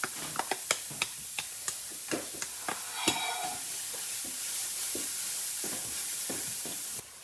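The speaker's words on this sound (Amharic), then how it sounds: "ይሄ ትንሽ ጥብስ ይበልልንና" Red onion frying in hot oil for a fasting ful dish: a few sharp clicks and taps at first, then a steady, close sizzle that continues to the end.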